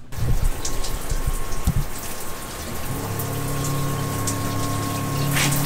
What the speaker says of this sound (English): let's go see how we shower on the new Catalpa, because Lee's in the shower and he's going to demonstrate